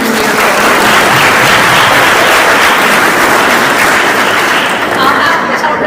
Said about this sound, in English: I'll have to tell Christina that got the biggest applause of anything today